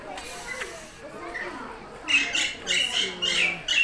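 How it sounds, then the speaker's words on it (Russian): Parrots squawking at Moscow Zoo, a burst of harsh, shrill calls in the second half over quieter background chatter and bird sounds, moderately close. "мне кажется, что это попугаи."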